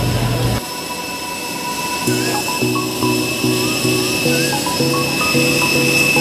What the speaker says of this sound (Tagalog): Nandito na kami sa aeroplano.